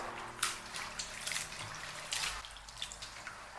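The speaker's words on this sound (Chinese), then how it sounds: "我们用清水多清洗几遍，直到洗至水清澈。" Cauliflower rinsed in clean water at a sink, soft splashing and dripping with a few brighter sloshes, close and quiet, short and without talk.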